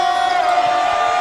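A packed college basketball arena crowd roars in a steady, loud wall of cheering that fills the whole moment.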